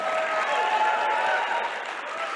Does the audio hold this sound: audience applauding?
yes